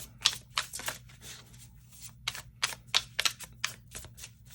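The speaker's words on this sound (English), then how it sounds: "Okay, one more shuffle here." Tarot cards riffled and shuffled repeatedly in quick crisp bursts, close up, with short pauses between shuffles.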